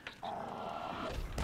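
A wolf companion in the game DDO gives a short, close growl lasting about a second, a low sustained snarl with a small yip at the start, alone without talk.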